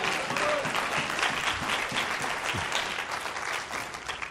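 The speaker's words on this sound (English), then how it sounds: "Somebody give God a hand clap" A church congregation gives a sustained round of hand-clapping applause, a dense, even roar of many hands that fades slightly toward the end.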